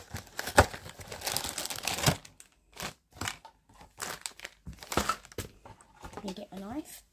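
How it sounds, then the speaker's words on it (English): Plastic packaging around a Star Twinkle Precure figure gets crinkled, crushed and torn in bursts of sharp rustling, with pauses between them and a voice talking over parts of it. "So let's unbox her."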